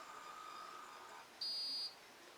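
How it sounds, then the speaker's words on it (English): A Meade ETX 60AT telescope controller gives a short electronic beep, a steady high tone lasting about half a second over faint background hiss, after a thinner tone earlier. "It'll beep in a second."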